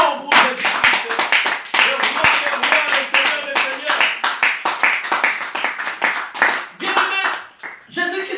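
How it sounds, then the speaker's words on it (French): Church congregation applauding and cheering in praise of Jesus Christ, dense rhythmic clapping that stays loud and continuous throughout, with voices rising over it. "Est-ce qu'on peut donner les acclamations pour Jésus-Christ?"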